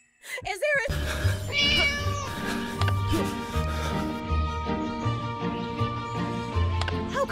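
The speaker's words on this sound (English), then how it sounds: "How come that naughty cat just vanished?" A cat meows in the Scary Teacher 3D game, one short mew at the start followed by a steady rhythmic game music loop with light tapping.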